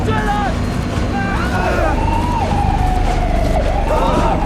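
A police siren wails in the Cyberpunk 2077 video game, rising and falling continuously over a loud, dense game soundscape.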